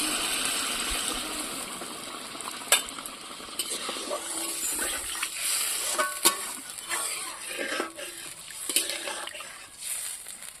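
Water is poured into a hot cooking pan during the making of raw banana kofta curry, a steady faint hiss and splash with soft scattered clicks and stirring.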